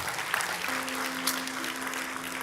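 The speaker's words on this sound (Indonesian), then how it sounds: "Berikan tepuk tangan buat Tuhan." A large church congregation applauds continuously during a service, a dense, steady wash of clapping with a faint sustained tone underneath.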